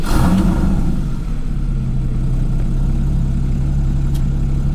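Porsche fitted with a SCART exhaust and valves closed, engine running loud and close with a deep steady rumble and a brief rev at the start, settling into an even idle drone.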